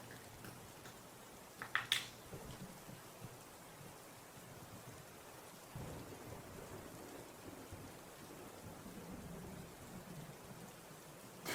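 Recorded storm ambience with steady rain hissing on surfaces and a brief sharp crackle of thunder near the start, played quietly as background with no talking.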